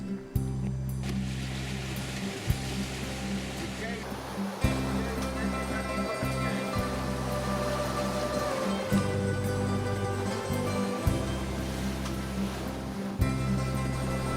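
Churning propeller wash and surf echo inside an Aegean sea cave against a steady low boat engine drone, with periodic throbbing pulses and a few brief knocks.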